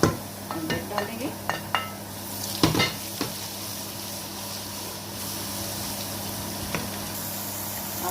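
Kofta masala with garlic paste and ginger cooking in a pot, with soft continuous frying and stirring, a few sharp clinks of a spoon against the pot early on, then a steady low sizzle alone.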